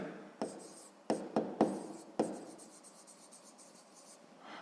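Pen strokes scratch on paper in several short bursts while a sixth-grade maths exercise is worked out by hand, close and quiet, followed by lighter continuous scribbling.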